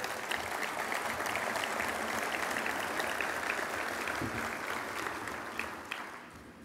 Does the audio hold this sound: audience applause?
yes